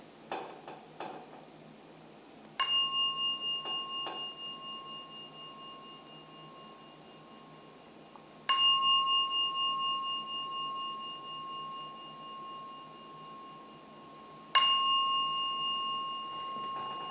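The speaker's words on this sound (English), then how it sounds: "I will ring the gong 3 times." A meditation gong struck three times at even intervals, each stroke a bright ringing tone that decays slowly into a quiet room before the next.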